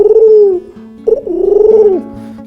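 Pigeon cooing imitated by a performer's voice on stage in a bird-themed show: two warbling, throaty coos, the second longer and rolling.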